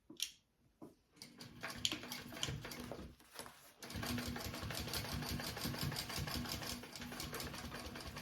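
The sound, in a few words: sewing machine top stitching a sling's gusset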